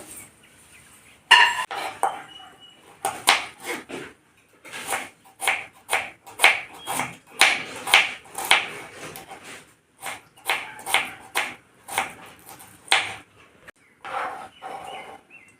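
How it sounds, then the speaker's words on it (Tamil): A knife chops onions rhythmically on a cutting board, sharp taps in quick bursts with short pauses, close and clear with no talking. "வெங்காயம் கட் பண்ணியாச்சு இப்போ தக்காளி கட் பண்ணிடலாம்"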